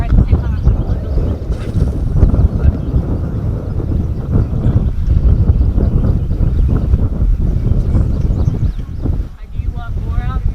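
Strong wind buffets a fishing boat trolling on Truman Lake, a steady roaring rumble on the microphone throughout, with people talking over it.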